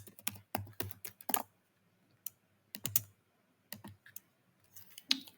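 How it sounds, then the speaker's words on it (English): Close, quiet keystrokes on a computer keyboard, arriving in short irregular bursts of clicks with brief pauses between them and no talking. "Now over here, I'll just type"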